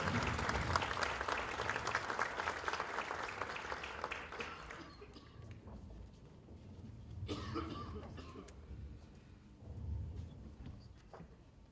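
An audience claps at the opening of a conference on anti-corruption. The applause is loud at first, fades out after a few seconds, and is followed by scattered coughs and room noise.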